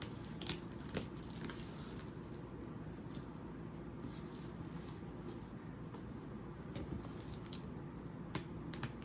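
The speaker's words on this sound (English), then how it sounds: "Getting good with these scissors." Quiet, crisp snips of scissors cutting paper, scattered irregularly over several seconds against a low background hum.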